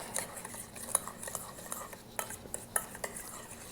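Food being mixed in a bowl with a utensil, giving soft scraping and clinking strokes at an uneven rhythm, close and fairly quiet, with no talking.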